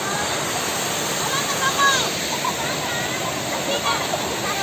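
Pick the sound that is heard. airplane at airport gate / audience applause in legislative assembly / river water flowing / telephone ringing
river water flowing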